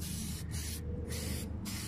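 Short bursts of corrosion-prevention spray hiss onto a 2005 Ford Expedition chassis, three close aerosol blasts separated by brief gaps over a low background hum.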